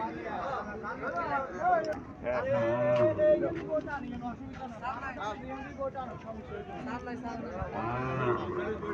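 A Haryana breed dairy cow at a cattle market moos repeatedly in long, drawn-out calls, moderately close, over a background of crowd chatter and people talking.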